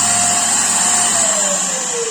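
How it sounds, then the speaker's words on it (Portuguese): A repaired Kärcher vacuum cleaner runs after its turbine motor was replaced, giving a loud, steady high-pitched whine with a slowly falling tone, alone and close up. "Finalizado, espuminha no lugar importante para conservar o aspirador."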